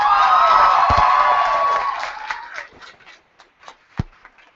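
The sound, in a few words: audience clapping and cheering for young poets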